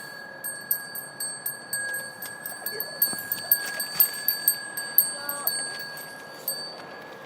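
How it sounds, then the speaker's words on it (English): Small temple bells ring repeatedly in a steady, tinkling pattern, bright and fairly close, with faint murmuring underneath. "So the whole temple is ringing with these bells."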